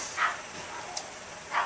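A dog barks outdoors a few times, distant and muffled, with short high yips spaced apart and no talk over them.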